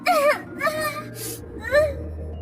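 A girl cries and wails in pain from burning eyes after kajal washed into them in a bathroom, with rising, quavering moans in several bursts, near and loud, over a low hum.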